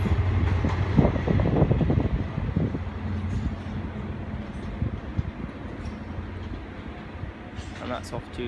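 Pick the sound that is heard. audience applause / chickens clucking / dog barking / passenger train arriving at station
passenger train arriving at station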